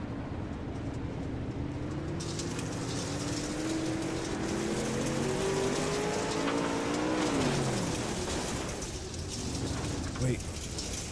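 Dirt track race cars at the Dirt Outlaws event at Cedar Lake roar continuously, one engine pitch rising and then falling as a car passes and backs off the throttle, loud and dense, with an announcer talking over it.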